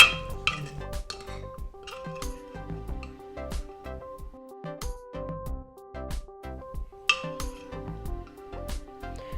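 A utensil clinks and taps against a cooking pot while tamarind is stirred in, with irregular bright metallic knocks spaced out between quieter scraping, close and fairly soft.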